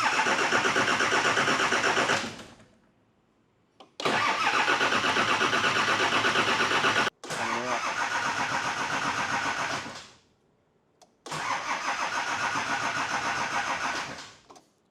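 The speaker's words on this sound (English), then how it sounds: "I'm going to start cranking it over and see if we get pressure." Nissan TD42 diesel engine cranking over on the starter with its solenoid disconnected, four long rhythmic cranking bursts of about two to three seconds each with short pauses between, heard close and loud.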